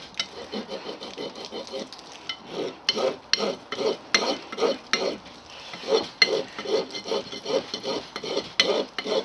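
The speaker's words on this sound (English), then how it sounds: "Now you'll find with a file it normally cuts in one direction, it doesn't cut in both directions" Hand file rasping back and forth over a pewter casting to remove moulding marks, a steady series of short scraping strokes at close range with no talk.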